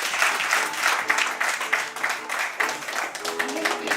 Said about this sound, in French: je vous prie d'applaudir cet axe